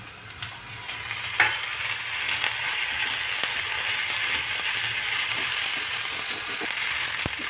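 Ginger-garlic paste sizzling among browned onions in a hot pan, a continuous close frying hiss with occasional scrapes and clicks of stirring, no voices.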